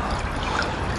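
Water trickles steadily from a garage water diversion system into a bowl, a close, continuous splashing flow with no break.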